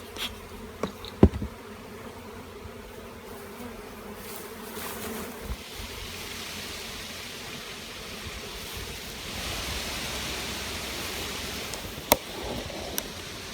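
Honey bees buzz in a steady, dense drone during a hive split outdoors, with a few sharp knocks and clicks of handling equipment nearby.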